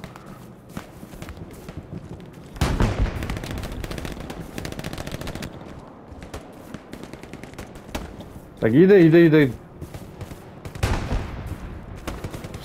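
Gunfire in a Hell Let Loose World War II battle, with bursts of machine-gun fire and single shots at varying distances, footsteps and movement between them, and a player speaking briefly over the action.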